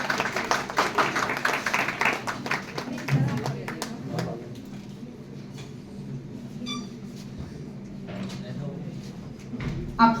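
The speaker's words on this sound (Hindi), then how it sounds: "एक बार तालियों से उनका स्वागत करें" An audience at a college health talk bursts into dense clapping to welcome the chief guest. The applause fades after a few seconds, and voices talk over and after it.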